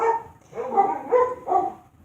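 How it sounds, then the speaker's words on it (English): Several dogs bark in a quick series of three or four loud, close bursts with short gaps between them, heard on their own with no talking over them. "My dogs are so annoying."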